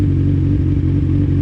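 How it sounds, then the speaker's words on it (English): A 2003 Kawasaki Z1000 fitted with Danmoto slip-on exhausts runs close and loud, its engine note a steady throbbing rumble without clear separate pops in this short stretch. "Any of the blipping, any of the popping is all to do with the exhaust."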